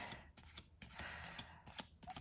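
Quick bursts of papery riffling as cards are shuffled, a few separate shuffles in close succession, near and fairly quiet, with no voices.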